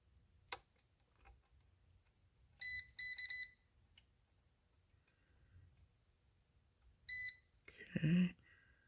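A multimeter on continuity setting, probing pads on the PCB of a Wei-Ya Promax C1000, gives short electronic beeps in a few separate bursts between faint clicks of the probes, ending in a brief louder clatter.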